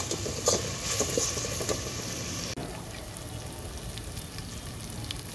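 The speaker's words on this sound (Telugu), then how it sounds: "ఉల్లిపాయ ముక్కలు అనేది ఇలా బ్రౌన్ కలర్లో ఫ్రై చేసుకుంటే పులావ్ అనేది మంచిగా టేస్ట్ ఉంటుందండి" Onions and ginger paste frying in oil for mutton pulao, a continuous sizzling hiss with scattered crackles and a brief stirring clatter partway through, moderately faint and up close.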